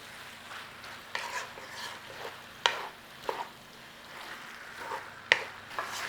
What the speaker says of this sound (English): And just give it a little stir through.